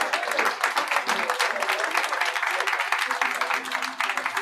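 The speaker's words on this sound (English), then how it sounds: "a round of applause for all of our presenters" Audience applause for the presenters at the Future of English Schools in Japan event: steady, dense clapping from a room of people, sustained at an even level throughout.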